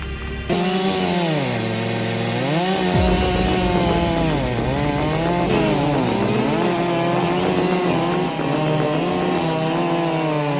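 A chainsaw runs loud and close through wood, its engine whine dipping and climbing again and again as the chain bogs under load and revs back up, with no talking.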